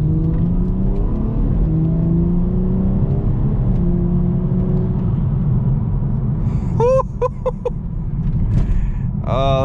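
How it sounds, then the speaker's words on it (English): A tuned BMW 440i with a B58 engine accelerating hard on a mountain road, loud rising engine drone filling the cabin, with a few sharp high chirps near the end. "This car is like twice as loud as that car ever was."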